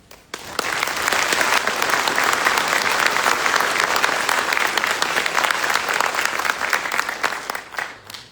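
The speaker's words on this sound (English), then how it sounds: "Please join me in a round of applause for their hard work and dedication." A large audience applauds steadily at a U.S. Army Drill Sergeant Academy graduation ceremony, with loud, dense clapping that swells quickly, holds for about seven seconds, then tapers off.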